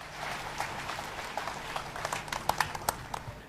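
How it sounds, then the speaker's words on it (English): Church congregation applauding, a dense wash of clapping with sharper individual claps standing out near the end, moderately distant. "Applaudissons pour Jésus."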